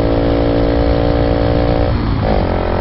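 A motorcycle engine drones loud and close with a steady mechanical note on an Easy Rider mountain tour in Vietnam, then shifts pitch near the end as the rider changes gear.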